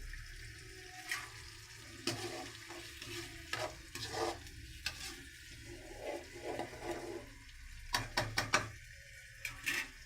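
Tomatoes fry in oil for a Tamil fish gravy, with a soft background sizzle broken by repeated scraping stir strokes from a spoon against the pan. The strokes are quiet and come in irregular bursts, with no voice.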